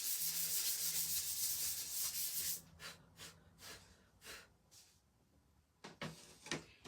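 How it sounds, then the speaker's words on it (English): A dried wood craft piece for a word collage is lightly sanded, first a continuous close rasping rub, then a series of short separate strokes with brief pauses and soft breaths between. "I'm just going to lightly sand it a little bit."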